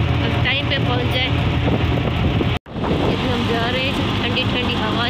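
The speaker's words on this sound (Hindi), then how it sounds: "ये वो इतनी ठंडी हवा चल रही है, बहुत ठंडी ठंडी हवा" Cool breeze rushes around a moving car, loud continuous wind buffeting with road rumble and a brief dropout midway, while people talk over it.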